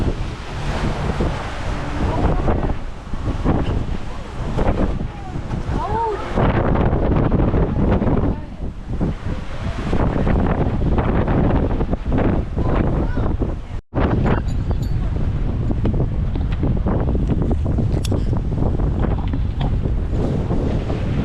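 Strong wind gusts up to 30 knots roar and buffet the microphone almost continuously, with waves and the rush of water around a sailing boat at sea off New Zealand.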